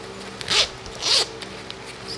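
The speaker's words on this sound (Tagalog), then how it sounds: "May zipper uli siya." Two quick zipper pulls open a bag during an unboxing, each a short, close, crisp rasp separated by a brief pause, with no voices.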